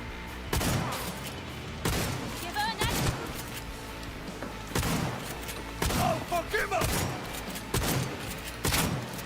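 Shotgun fire in the video game Cyberpunk 2077, heavy booming blasts repeating at irregular intervals through a combat sequence, loud and close, with game effects and a voice talking underneath.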